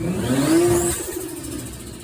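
A Nissan 240SX with a 2JZ engine and no blow-off valve revs sharply once, the pitch climbing and then dropping away as the engine settles, heard up close with no voices.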